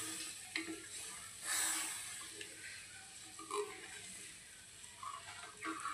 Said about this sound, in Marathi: छानपैकी असं मिक्स करून घ्या.